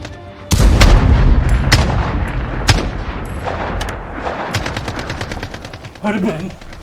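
Gunfire cracks through a battle scene in a 1998 Albanian feature film: loud, sharp shots and rapid bursts fire in quick succession and fade into a brief muffled sound near the end.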